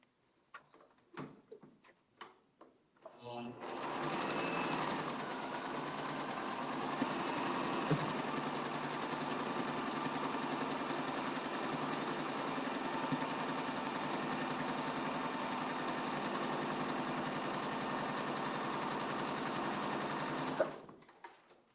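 A sewing machine stitches quilt block pieces in one long steady whirring run of close mechanical ticking, preceded by a few light clicks and handling noises and ending abruptly.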